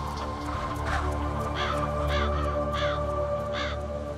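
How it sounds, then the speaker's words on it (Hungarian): Several crows calling outdoors, a run of harsh caws at irregular intervals, fairly close and clear over a low steady background. "ezek a varjak nem egyedül érkeztek"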